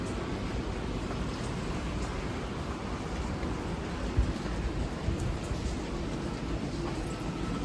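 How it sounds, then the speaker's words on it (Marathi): Steady evening rain pours down outdoors, a dense continuous hiss with a few faint distant rumbles, heard alone without voices. "पाऊस बघ उठला तिकडं"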